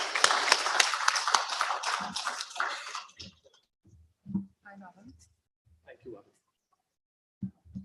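A short burst of audience applause at a programmatic advertising summit welcoming a company co-founder to the stage, fading after about three seconds into quiet room noise with faint scattered sounds.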